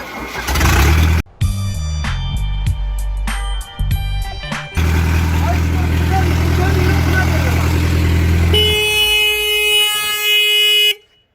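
A Massey Ferguson 240S tractor engine is cranked and fires, with short bursts and stops before settling into a loud, steady diesel run. A horn-like tone sounds near the end before it cuts off, and voices can be heard at times.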